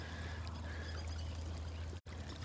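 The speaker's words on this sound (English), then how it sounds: "This little streamlet of water" A small outdoor streamlet flows and pours steadily, a continuous close rushing wash with a brief dropout partway through and no talk.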